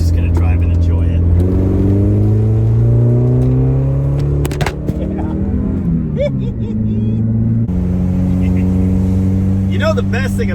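A 1981 Dodge Challenger drives along, its engine climbing in pitch through successive gears with a steady, loud rumbling drone close by.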